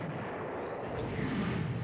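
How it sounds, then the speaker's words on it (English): Naval torpedo strike on a ship in the strategy game Rule The Waves 3: a continuous low, rumbling burst that swells slightly near the end, alone without talk. "Ah, they hit Bonnie Blue with a torpedo."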